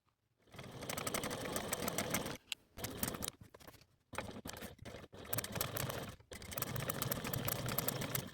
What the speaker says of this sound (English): I want to take this to the machine and top stitch at a 1/8 seam allowance along both long edges